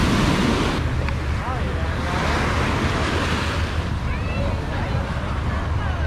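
Surf and wind at Ipanema beach in Brazil, a loud continuous wash of breaking waves with rumbling gusts buffeting the microphone throughout.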